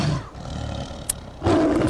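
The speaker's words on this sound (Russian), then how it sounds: "Красивый тигр, конечно." A tiger roars in the Far Cry 4 video game, a loud, close, growling roar that fades and then surges again, with a brief sharp click between the two swells.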